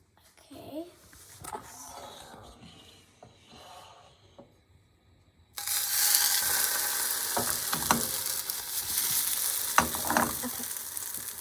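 French toast is laid into a hot pan. After a quiet stretch of small handling noises, a loud, continuous sizzle bursts in and holds steady, with light scrapes over it.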